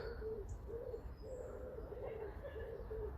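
Birds calling in a garden in South London, a soft, repeated cooing in steady phrases with faint chirps above, distant and calm over low background rumble.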